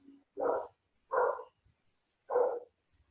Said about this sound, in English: Carla, can you hear your dog barking, missing you?